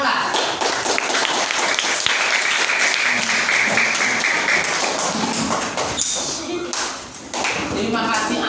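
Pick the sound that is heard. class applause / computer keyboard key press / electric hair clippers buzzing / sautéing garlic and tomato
class applause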